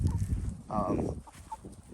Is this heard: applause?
no